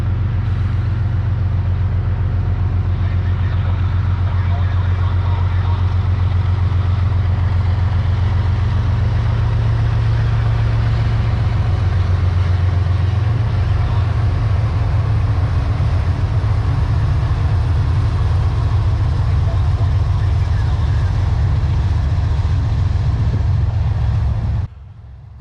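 Rumbling CSX freight train led by a pair of freshly rebuilt CM44AC locomotives, a loud, steady low drone of diesel engines and rolling wheels that holds close and continuous before cutting off abruptly near the end.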